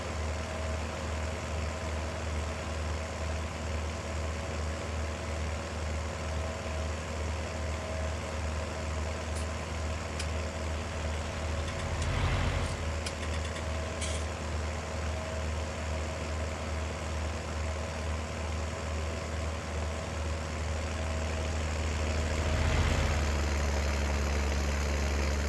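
A farm vehicle engine in Farming Simulator 19 drones steadily while driving, a continuous low rumble with a slight swell near the middle and again toward the end, with no speech.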